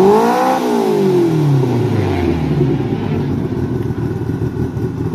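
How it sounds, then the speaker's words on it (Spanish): A Ford Escort Coupé drag car with a Mitsubishi 4G63 engine revs sharply at a drag strip meet, its pitch sweeping up and falling back before settling into a loud, rough, steady engine roar. "Ford Escort Coupé. Motorización 4G63 Mitsubishi."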